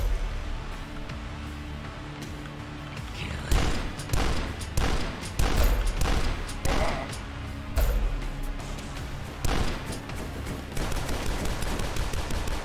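Shotgun blasts in the retro first-person shooter Dusk, several loud booming shots at irregular intervals over a continuous game music and ambience bed, with no talking.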